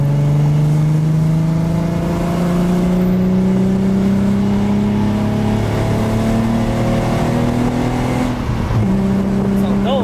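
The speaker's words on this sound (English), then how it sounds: "I'm going to try to get ahead of them and launch it." A car launching hard from a standstill, its engine revving loud and steady with rising pitch as it accelerates, held close throughout.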